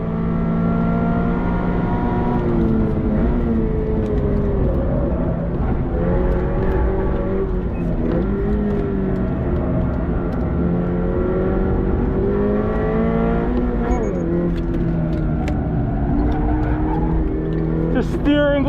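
A Subaru BRZ or Toyota GR86 with a clutch-type limited-slip differential accelerating hard on a bumpy race track: loud, close engine drone climbing and dropping through the revs, with a brief tire squeal near the end and a driver talking throughout.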